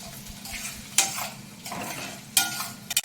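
Spoon stirring a sizzling mixture in a pan while cooking with onion and spices, a few sharp scraping strokes against the pan over a soft steady frying hiss, close and alone.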